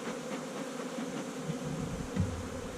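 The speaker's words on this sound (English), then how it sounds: "The bees have gone in and started building comb where we don't want it." Inside a hive, honey bees keep up a soft, continuous hum, with a few individual buzzes rising briefly near the microphone.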